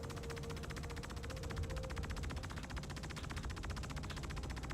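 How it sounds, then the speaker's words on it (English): Minigun fire in Star Citizen, a steady, extremely rapid buzzing stream of shots running unbroken throughout, loud and continuous with no pauses and no speech. "That's not him, because it's a minigun"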